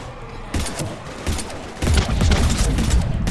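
Gunfire in the video game Mass Effect 3, with dense bursts of shots and booming impacts that grow louder partway through and keep going steadily to the end.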